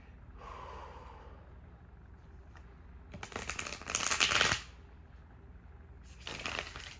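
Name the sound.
shuffling tarot cards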